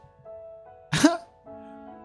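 A single sharp sneeze bursts out between quiet stretches of soft background music.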